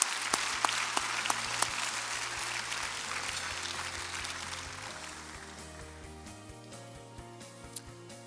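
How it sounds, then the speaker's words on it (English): Ceremony audience at the 2021 Blavatnik National Awards for Young Scientists applauds the regional finalists, a broad wash of clapping that starts strong with sharp individual claps and gradually thins and fades over a low music bed. "Another round of applause."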